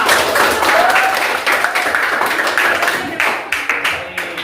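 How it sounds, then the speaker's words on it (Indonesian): A class of eighth-grade students in a religious education lesson claps together, a loud, close burst of applause that thins toward the end into scattered rhythmic claps. "Oke, tepuk tangan kita."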